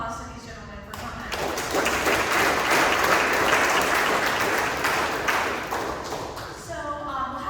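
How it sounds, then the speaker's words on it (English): Audience applause for guests at a football evening event, swelling from a voice into a full, sustained round of clapping that tapers back under talk at the end. "Let's give another round of applause to these gentlemen for coming."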